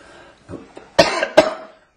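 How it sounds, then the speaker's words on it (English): A couple of sharp, close coughs, the second following shortly after the first, preceded by faint throat noises. "I've got a cough."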